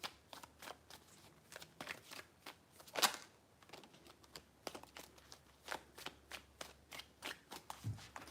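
A tarot deck shuffled repeatedly in a steady run of crisp, close card slaps and riffles, with one sharper snap partway through and no talking.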